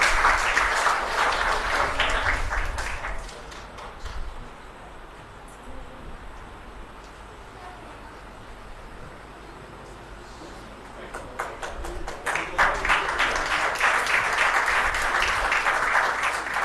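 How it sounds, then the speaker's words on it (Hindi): Enthusiastic audience applause at a ceremony in Dehradun, with loud clapping at the start that fades to a quiet room murmur, then swells back strongly near the end. "जोरदार तालियों से स्वागत"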